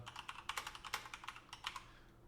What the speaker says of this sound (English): Oh, so, Kassem, is that a mechanical keyboard that you have?